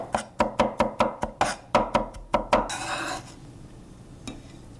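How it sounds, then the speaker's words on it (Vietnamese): Garlic cloves, about four or five, minced with a knife on a board for fried fish in fish sauce: eleven sharp, evenly spaced chops ring out close up, then a scraping sweep and one last tap. "trong khi chờ cá ngấm gia vị thì mình băm tỏi ha."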